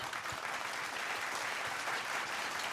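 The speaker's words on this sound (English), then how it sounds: "Can I please give a round of applause?" A dense, steady round of applause, a continuous wash of many hands clapping at even loudness from start to finish, no voices heard over it.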